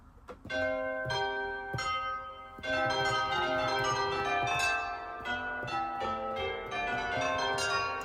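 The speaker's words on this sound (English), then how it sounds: "And church bells." Church bells played on an Erae 2 synthesizer ring out in a sequence of struck chimes, each strike blooming into a bright, layered peal that sustains and overlaps the next, loud and close with no voices.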